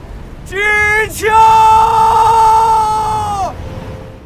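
A long, loud, high-pitched wail held for a few seconds with a brief break early on, a woman's anguished scream over faint background noise.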